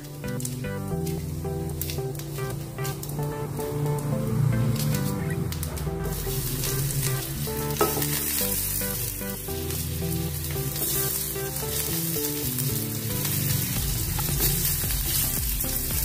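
Chopped onions go into hot oil with half a spoon of cumin and a pinch of asafoetida, making a steady, moderately loud sizzle with occasional stirring sounds that lasts throughout.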